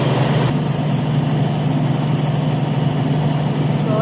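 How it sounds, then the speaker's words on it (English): Generator engine running steadily after a starter solenoid repair, a constant close, loud droning hum with no talk. "You can say our generator started."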